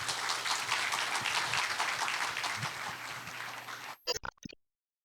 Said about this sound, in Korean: 두 팀 잘할 수 있게 큰 박수로 제주소년과 소소상점을 맞아주세요